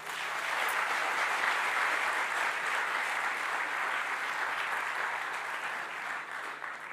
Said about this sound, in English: Can I get a big round of applause for Ulaş and Vitalik again?